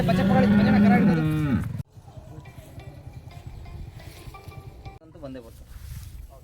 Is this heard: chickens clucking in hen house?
no